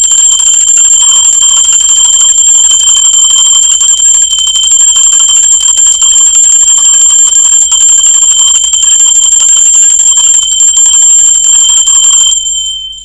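A bell rings loudly and steadily with a sustained, shimmering metallic tone and bright overtones, holding for about twelve seconds before stopping abruptly, with no voices.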